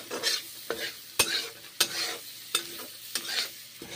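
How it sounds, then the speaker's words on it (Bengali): Garlic and onions frying in butter, sizzling up close while a spatula scrapes and stirs the pan in about eight distinct, uneven strokes. "রসুনগুলো বাটার দিয়ে ভেজে নিচ্ছি, পেঁয়াজগুলো বাটার দিয়ে ভেজে নিচ্ছি।"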